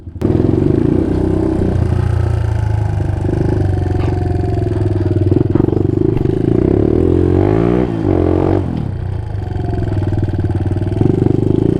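A motorcycle engine with a tuned carburetor revs hard and steadily up close, loud and continuous, with throttle blips and a brief dip midway before climbing again.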